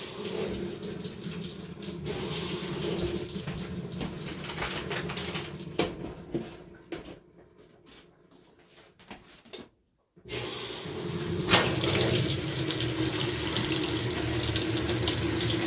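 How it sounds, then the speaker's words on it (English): Hot water pours steadily into a washing machine set for a medium, heavy-duty load. The rushing flow briefly drops away and then returns at full strength. "I'm setting my washer on medium load because small doesn't put enough water in there to cover an ant"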